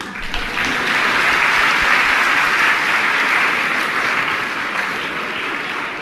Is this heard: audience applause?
yes